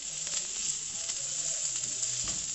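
Crushed ginger and garlic hitting translucent onions in a pan, giving a soft, steady sizzle and hiss that runs close and fairly quiet, with no voices over it.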